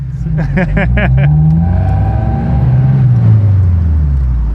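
A stock four-cylinder engine of a 1989 Alfa Romeo Spider Graduate revs up and holds a loud droning pitch that rises and falls, close by, with a brief voice early on.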